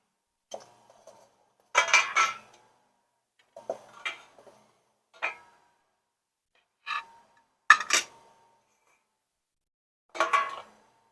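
Three cake pans for a tie-dye cake clank and clink as they are handled, in scattered short metallic bursts separated by quiet gaps, nearby and with no speech.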